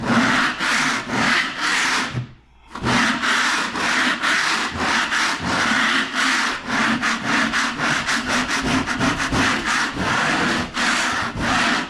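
A popcorn ceiling texture is scraped off drywall by hand, a continuous close, loud rasping of rhythmic scrape strokes with one brief pause, the strokes growing quicker toward the end.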